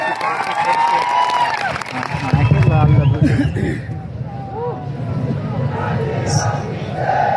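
Large crowd at an outdoor Adivasi religious gathering claps and cheers loudly and steadily throughout, with shouts and babble mixed into the sustained roar.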